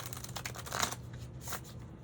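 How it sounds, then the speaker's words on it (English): Stiff tarot cards being riffle shuffled, a soft papery flutter and brief rattling burst, quiet and close with no talking. "this one really doesn't want to riffle shuffle so much"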